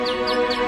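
A mechanical singing bird in Heron's ancient automaton, driven by cogs, ropes and pulleys turned by a wheel, gives three quick, close, bright chirping whistles in even succession.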